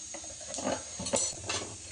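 Cumin seeds dropped into hot oil in a heated pan give a quiet sizzle with a few soft crackling bursts and light clinks of a spoon stirring.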